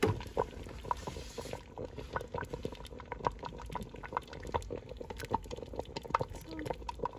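Potatoes added to a pot of boiling liquid for a homemade pot roast, with steady bubbling and irregular plops and splashes in quick succession, close and moderately soft.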